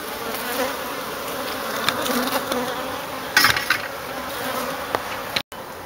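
Honey bees buzzing during a cutout of a thin, long hive, a dense close swarm drone with individual bees zipping past, continuous for several seconds.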